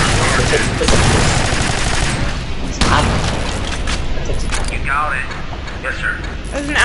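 Heavy gunfire in the sci-fi shooter game Alien Swarm, dense bursts of automatic fire and booms blasting continuously and loudly, with players talking over the barrage.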